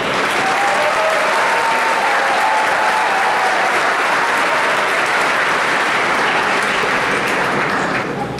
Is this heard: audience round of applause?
yes